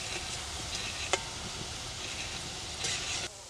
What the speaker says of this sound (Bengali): মিষ্টিটা একটু হালকা আঁচে ভাজতে হবে,